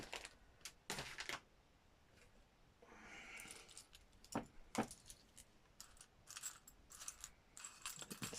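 Small metal paper clips and rings rattle and clink as fingers rummage through a pot of odds and ends, in irregular bursts with quiet pauses between, close and fairly soft.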